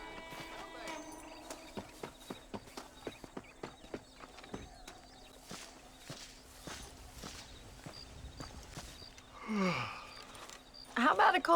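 Horse hooves clip-clop at a steady trotting rhythm while riding in the Red Dead Redemption video game, moderately close. Game dialogue and other noises come in near the end.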